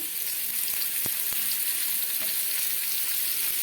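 Spices fry in oil in a pan for a vegetable dal before cauliflower, beans and carrots go in. A steady, even sizzle carries throughout, with a few faint clicks of stirring and no talk.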